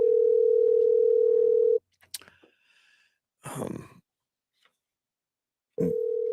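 Steady telephone dial tone on a live radio call-in show, held for nearly two seconds and then cut off. A click follows, then a gap, a breathy burst, and the same tone returns at the end.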